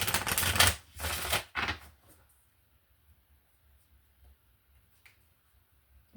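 Angel Tarot cards riffle in two or three quick bursts of close shuffling. A soft slap follows as a card is drawn, then near silence.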